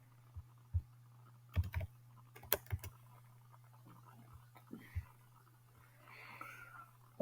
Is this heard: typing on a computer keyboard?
yes